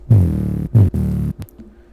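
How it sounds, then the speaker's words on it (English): The upper layer of a Serum sub bass, built from a fluttering wavetable with a pitch-down master-tune envelope, plays three buzzy, harmonically rich notes with short breaks, then a faint tail, no talking. "Now the upper layer of the sub sounds like this"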